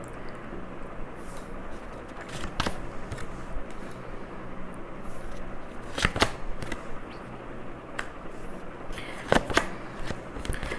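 Tarot cards being shuffled and drawn, soft papery rustling and sliding with a few sharper snaps and flicks scattered through, close and fairly quiet, with no talking.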